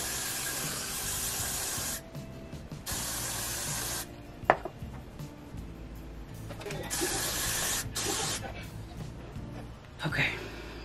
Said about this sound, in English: Now just spritz this bad boy.